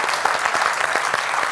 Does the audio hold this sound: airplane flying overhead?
no